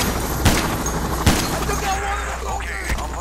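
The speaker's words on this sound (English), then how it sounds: "Well, there's lots of stuff shooting at us." Gunfire in PAYDAY The Heist: two sharp shots ring out close together, with another fainter crack near the end, over a steady low hum and a busy background of game noise.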